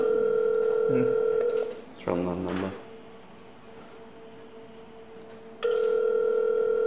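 An outgoing call rings on a phone while waiting for an answer: a steady ringback tone plays, breaks for a brief spoken line and a quiet pause, then resumes.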